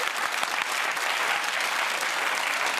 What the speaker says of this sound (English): And the applause was deeply patronising.